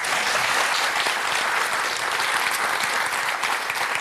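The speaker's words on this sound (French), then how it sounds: "Vous pouvez applaudir Thomas." A television studio audience applauds a guest named Thomas, a dense, steady burst of clapping from many hands throughout, with no talking.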